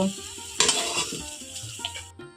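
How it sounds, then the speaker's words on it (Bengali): Potato filling being scooped out of a pan into a bowl, with close, uneven scraping and stirring scrapes and a soft residual sizzle, no voices. "এখন আমি আলুর পুরটা একটা পাত্রে এইভাবে নামিয়ে নেব"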